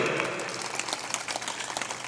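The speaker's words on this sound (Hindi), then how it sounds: "ताली बजा दो।" Audience applause at a spiritual discourse, a steady dense clapping wash, moderately loud and sustained throughout.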